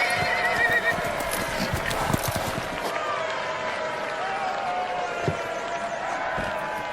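A horse whinnies loudly while hooves clop and a crowd murmurs in the background, with voices talking nearby.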